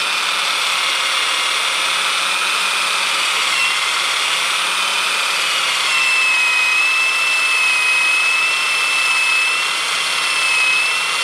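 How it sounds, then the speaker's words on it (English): A small wire brush scrubbing a carburetor part from a Honda ATC 250SX, heard as a loud, steady, high-pitched whirring hiss up close, continuous for the whole stretch with no speech. "This stuff here, you take my little wire brush to it, and scrub it up nice"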